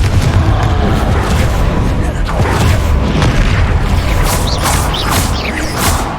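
In the video game Hogwarts Legacy, a Confringo spell explodes with loud, dense booming and rumbling blasts alongside mechanical creaks and sharp cracks, continuous and heavy throughout, with a voice speaking over the action.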